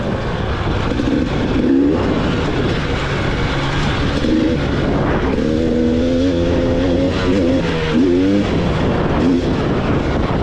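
A 2021 GasGas 300 EC two-stroke dirt bike engine on a trail bike track, loud and close, droning steadily with rising and falling revs throughout.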